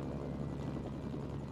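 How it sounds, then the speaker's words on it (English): Mi-35 gunship helicopter in the video game Mercenaries: Playground of Destruction, a steady dense rotor and engine drone that holds loud and close without a break, with no talking over it. "Grab our nice little helicopter. This helicopter, the Mi-35 gunship."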